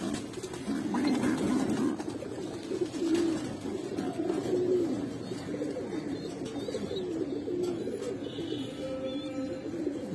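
Khaki pigeons at a pigeon seller's coo in soft, repeated low calls, close by and continuing throughout.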